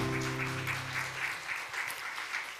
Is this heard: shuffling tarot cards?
no